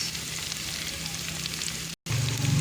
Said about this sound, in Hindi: तो अब डाले जा रही हूँ मैं प्याज